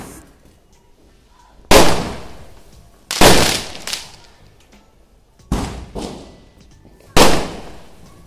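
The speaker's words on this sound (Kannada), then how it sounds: "ಪಟಾಕಿ ಇಲ್ಲದೆ ದೀಪಾವಳಿ ಕಂಪ್ಲೀಟ್ ಆಗಿಲ್ಲ ಅಂತ" Firecrackers bursting at home during Diwali celebrations: five loud, sharp bangs spread irregularly over several seconds, each with a short echoing decay, with quiet between them.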